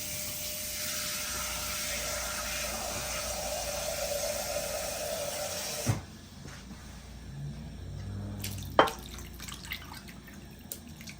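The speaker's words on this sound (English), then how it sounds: "I'm going to add a little bit more liquid to this pan" Liquid streams steadily into a pan of cooking rice for several seconds, then stops; afterward a few faint drips and a sharp clink of cookware.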